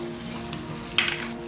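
Ground chili, turmeric and garam masala sizzle gently in hot oil with a soft scrape midway and a brighter metallic stirring clatter near the end, all close and fairly quiet.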